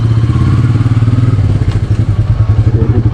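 A Royal Enfield Meteor 350 motorcycle is ridden, its engine giving a loud, close, steady low thumping pulse that runs throughout.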